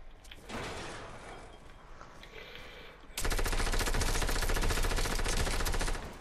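Gunfire in the battle royale game Fortnite: scattered shots at first, then a loud, dense stretch of rapid automatic fire rattling steadily for several seconds before cutting off.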